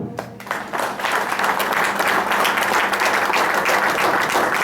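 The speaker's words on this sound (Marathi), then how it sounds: "टाळ्यांचा आवाज कमी येतोय." A seminar audience at Vishnu Pratibha Hall in Virar applauds with dense, steady clapping that swells after a brief start and holds at a strong, even level for several seconds.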